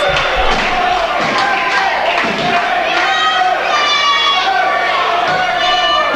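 Wrestling crowd cheering and shouting loudly throughout a title match, with rising chants and whistles and occasional thuds beneath the steady roar of many voices.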